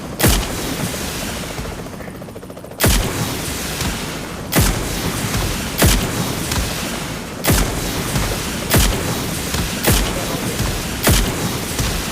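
A series of sharp, loud blasts of a car exploding in PUBG Mobile repeat every second or so over a constant noisy rumble.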